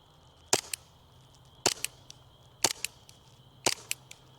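An airsoft gun firing orange tracer BBs outdoors, heard as four sharp, evenly spaced shots, each followed by a fainter secondary snap, with quiet background between them and no talking.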